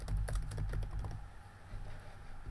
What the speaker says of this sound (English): Hit return on your keyboard to take a new line and type any text.